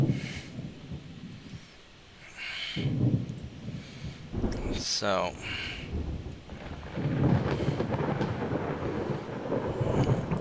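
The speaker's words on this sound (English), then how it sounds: "it's a storm" Thunderstorm in the naval battle game Ultimate Admiral Dreadnoughts: rolling thunder rumbles and steady rain hiss through most of the stretch, with a sharp crack midway, while someone talks over it.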